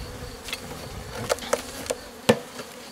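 Honey bees, black and Buckfast hybrids, buzz steadily at a hive, with several sharp knocks or taps scattered through the low drone.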